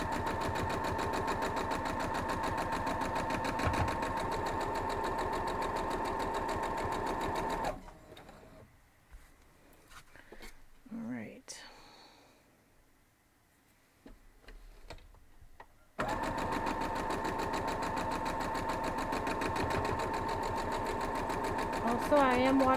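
Home sewing machine stitching rows of a sunset-light quilt block, a loud close rhythmic whirring hum that stops for several seconds of near quiet with small handling noises, then resumes steadily.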